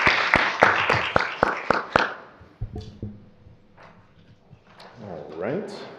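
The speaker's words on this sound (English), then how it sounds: "Another round of applause." Brief burst of applause at a board meeting, about seven sharp claps in the first two seconds, then it stops and quieter room noise with murmuring voices follows.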